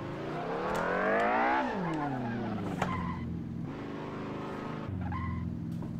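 A racing car in the video game Assetto Corsa revs up hard, then drops through a gear change with tire skids, settling into a steady engine drone that rises again near the end.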